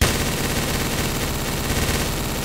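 Gunfire in the video game Garry's Mod rattles in a dense, continuous automatic burst, loud and unbroken throughout.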